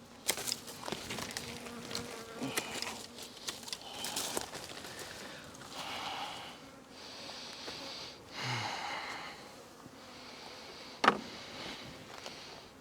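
A swarm of bees buzzes around rose bushes as a dense, steady hum that rises and falls in loudness, with a sharp brief rustle near the end and no voices.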